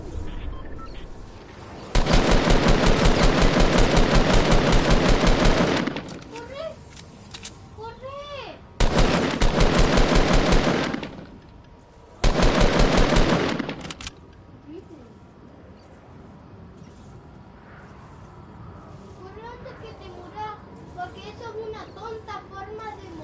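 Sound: gunfire in a video game

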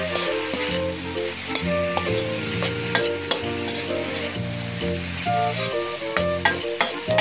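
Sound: stir-frying an egg dish in a pan

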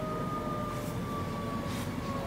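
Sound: ambulance siren

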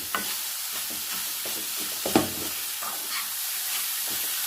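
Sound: stirring cooked chana dal into melting sugar in pan

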